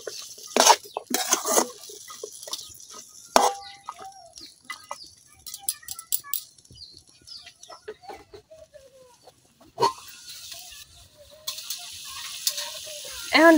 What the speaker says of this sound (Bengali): সিম আর মূলার সাথে কিন্তু আমি মশলাটা খুব ভালোভাবে মিশিয়ে নিয়েছি।